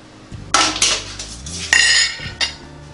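Metal rack and meat probe clatter and clank inside a Nuwave Bravo Smart Oven air fryer in a home kitchen. Several loud, close rattling bursts come in quick succession, with no talking.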